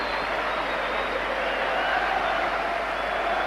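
Capacity stadium crowd at a 1998 Liverpool FC friendly against Inter Milan, a steady broad roar of many voices and distant clapping holding level throughout.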